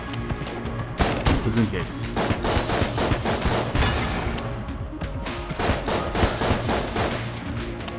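Rapid bursts of gunfire and impacts in the roguelike shooter Enter the Gungeon, firing continuously and loudly from start to finish, with a player talking over the action.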